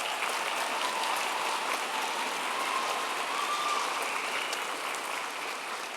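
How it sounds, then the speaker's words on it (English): A graduation ceremony audience applauds in a dense, continuous wash of clapping that holds steady from start to finish, with no talking. "Give them a round of applause."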